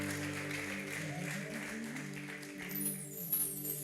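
A church congregation applauds with a steady wash of clapping, mixed with sustained high ululating and sung tones throughout, fairly loud and continuous.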